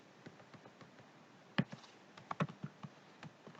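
Keystrokes on a computer keyboard as a command is typed into a PC's command prompt: a quiet, irregular run of light clicks and taps, a few sharper presses standing out, with no talking.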